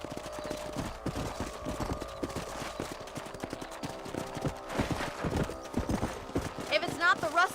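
Horse hooves clip-clopping in the video game Red Dead Redemption, a steady, close rhythmic trot at moderate loudness, with game speech and a brief whinny-like sound near the end.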